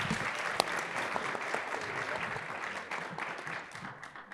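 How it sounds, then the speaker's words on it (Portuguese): An audience at an Itaú BBA investment event on the technology sector applauds a managing director being introduced. The steady clapping runs evenly for a few seconds before thinning out. "Uma salva de palmas, por favor."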